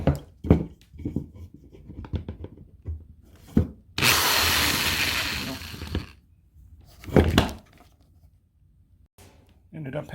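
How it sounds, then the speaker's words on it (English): A drill press bores into wood in a workshop, a steady loud whirring burst of about two seconds standing apart from scattered knocks and quieter handling sounds. "Ended up having to go to the drill press to finish those up."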